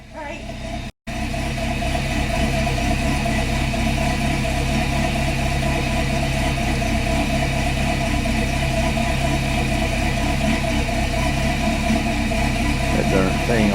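A running 1966 C-10 truck engine with a noisy fan, a loud steady roar and whir that continues after a brief dropout near the start.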